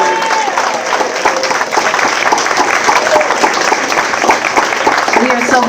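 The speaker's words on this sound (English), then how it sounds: "So can we give one more round of applause to all of our 2026 recipients?" Sustained audience applause fills an award celebration honoring recipients, a dense steady clatter of many hands clapping at close range from start to finish, with occasional scattered voices faintly mixed into the crowd.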